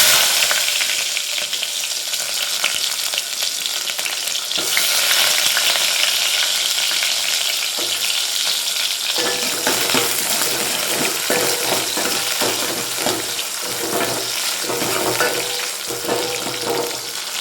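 Onions hitting hot oil with fenugreek seeds for a village-style dried stingray curry, a loud, dense, continuous hiss and crackle with faint stirring taps, close and steady with no voices.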